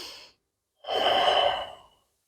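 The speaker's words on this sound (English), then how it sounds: "And breathing wide into the sides and the back of the rib cage." Deep breathing during a Pilates workout: a short exhale fades out, then after a pause a long, soft, airy breath swells and tapers away, close and quiet.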